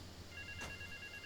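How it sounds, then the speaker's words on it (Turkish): A phone rings for a mission in the video game GTA, a faint electronic tone pulsing steadily over low background hum, with one brief louder burst partway through. "Benim kulübesinden çıkan telefon görevi çalıyor."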